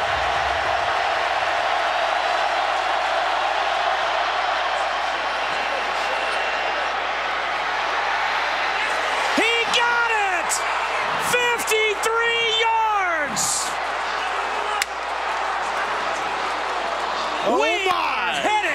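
A stadium crowd at a college football game between Georgia Tech and Georgia roars continuously as a 53-yard field goal sails through to force overtime, a loud sustained cheer with whoops and shouts rising and holding throughout.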